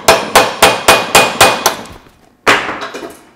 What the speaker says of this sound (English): We'll hammer the retainer into the grooves.